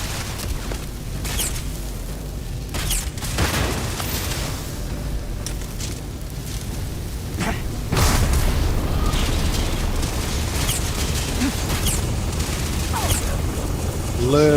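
Weapons fire in a Starfield space battle, with booms and bursts breaking over a continuous loud rumble of engines and mechanisms, a heavier stretch of blasts arriving midway.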